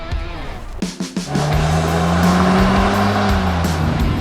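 An Audi S3 revs up and pulls away hard on a test drive, engine note rising loud and close as it accelerates steadily after a few brief blips.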